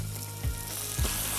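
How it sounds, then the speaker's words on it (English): Pork pieces set skin side down in a hot pan sear with a steady close sizzle and two brief louder crackles as the meat settles. "Get your pork skin side down."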